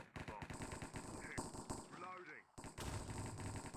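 Rapid gunfire from a Mine Strike shooter game, with repeated sharp shots in quick bursts that break off briefly before resuming, under faint game sounds and occasional voice.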